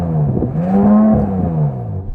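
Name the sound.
Audi car engine revving against soft limiter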